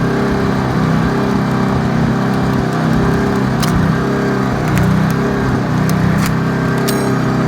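An old Japanese single-cylinder gasoline welding generator with electric start runs at a steady idle, a loud, close, continuous engine drone with a throbbing low rumble and occasional light metallic clicks and ticks on top.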